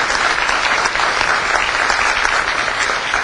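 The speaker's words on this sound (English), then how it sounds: "Let's let everyone give you a round of applause" Audience at a community development week event applauding steadily, a dense sustained clapping close by with no talk over it.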